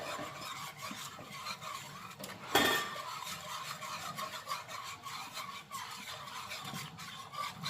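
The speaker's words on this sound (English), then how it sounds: "You just keep stirring." A spoon scrapes and rubs around the bottom of an Instant Precision Dutch oven while gumbo is stirred, a steady rasping, grating rhythm with one sharper clunk partway in, close and continuous.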